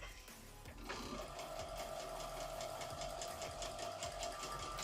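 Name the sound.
sewing machine struggling through bulky seams while quilting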